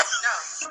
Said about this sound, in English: Coughing and shit.